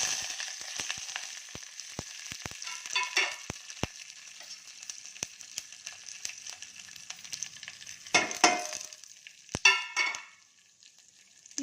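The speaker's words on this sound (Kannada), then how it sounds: "ಇದಕ್ಕೆ ಇವಾಗ ಒಗ್ಗರಣೆ ಸಾಮಾನು ಹಾಕೋಣ." Tempering spices (cumin, fenugreek, curry leaves and chillies) crackle and pop in hot oil, a bright spluttering sizzle with sharp individual pops and bursts of louder hissing that die down toward the end.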